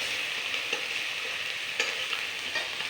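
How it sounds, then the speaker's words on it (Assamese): Onions fry in a pan as ginger-garlic paste is added and stirred, a continuous close sizzle with a few faint scraping clicks of the spoon. "এতিয়া মই আদা নহৰু পিচাখিনি ইয়াৰ লগত দি দিলোঁ।"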